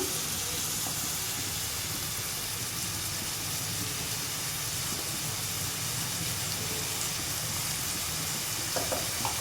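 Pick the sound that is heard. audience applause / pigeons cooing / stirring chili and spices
stirring chili and spices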